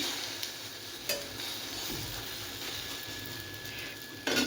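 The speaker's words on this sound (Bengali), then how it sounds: "এদিকে ডিমের অমলেট করছি ইন্দ্রের জন্য" An egg omelette sizzles faintly and steadily in a pan, with a few soft clinks and scraping stirs at intervals.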